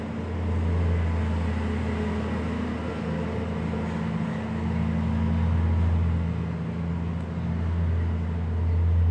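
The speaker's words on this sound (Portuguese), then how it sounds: "Vou esperar passar o caminhão um pouquinho aí" A truck passes nearby with a steady low engine rumble, loud and sustained, swelling slightly at moments as it goes by, with no voices over it.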